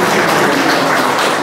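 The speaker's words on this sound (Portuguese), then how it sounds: "Uma salva de palmas." A church congregation gives a short burst of applause, loud and broad, many hands clapping together in an unbroken wash for a brief moment.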